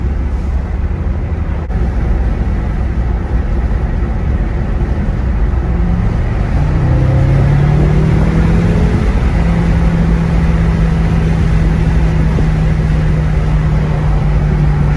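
A BMW F10 M5 with its mufflers removed accelerates around a curve, its exhaust a loud, steady low drone that rises in pitch as the revs climb, heard continuously without talk.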